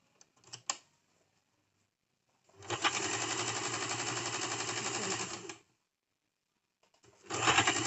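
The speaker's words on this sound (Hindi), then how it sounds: "हमें सिर्फ दोनों पार्ट्स को मिलाते हुए सिलाई करनी है" Sewing machine stitching two cigar-style pant panels together along a half-inch seam margin, two loud sustained runs of rapid mechanical stitching, the longer lasting about three seconds, with short bursts and silence between.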